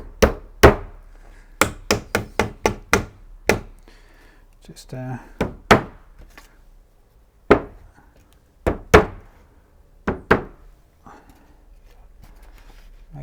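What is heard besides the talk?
hammer banging while stretching a canvas frame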